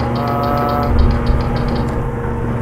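A steady, loud diesel truck engine rumbling at idle, with a constant low drone and a faint rhythmic ticking on top, no voices.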